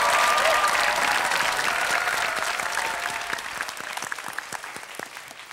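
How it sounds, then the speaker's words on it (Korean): Studio audience applause on a KBS TV quiz show, a dense, loud wash of clapping that starts full and gradually thins out into scattered individual claps as it fades. "박수 한번 주세요."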